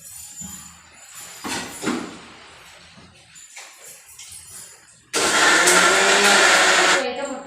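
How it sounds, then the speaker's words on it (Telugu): A kitchen mixer grinder grinding lentils into a batter starts up after a stretch of quieter background noise and runs as a loud, steady, close whirring roar for about two seconds before cutting off. "పట్టేసిన బెబ్బరపప్పు అయితే మొత్తం మిక్సీకి వేసి పట్టేసిన."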